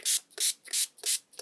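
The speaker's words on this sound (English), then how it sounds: "you're just going to take your spray bottle and you're just going to spray" Four quick hissing sprays from a spray bottle, evenly spaced bursts about a third of a second apart, close and fairly loud.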